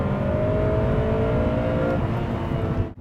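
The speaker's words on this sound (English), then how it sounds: "And we'll probably hear the VTEC now. And there it is." Honda Prelude with a VTEC engine, manual gearbox, low-slung car, revving hard from inside the cabin, a steady loud drone with a rising whine that holds for about two seconds before cutting off near the end.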